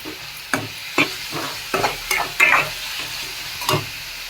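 Tomatoes frying in a pan for a soya kheema gravy over a low flame, with a steady sizzle broken by about seven sharp scraping strokes of a spoon stirring them, close and loud, with no talking.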